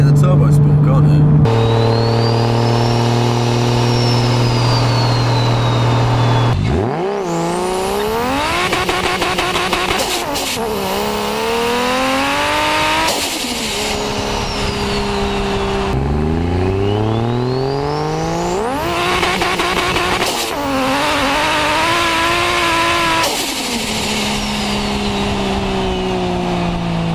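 A turbocharged 450 hp 1JZ Toyota Chaser Tourer V engine revs hard again and again, with rising and falling pitch sweeps, loud and close throughout.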